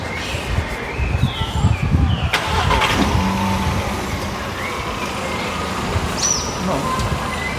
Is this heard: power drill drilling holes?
no